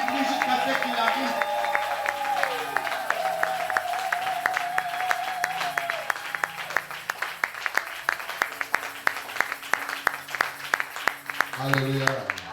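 A church congregation at a Sunday service claps in a steady rhythmic beat, the claps near and even, under singing voices and organ-like tones.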